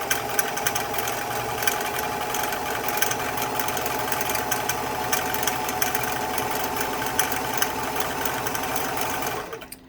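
A freshly oiled vintage sewing machine runs at a steady high speed, a loud, continuous rhythmic mechanical clatter and motor hum close up that winds down and stops at the very end.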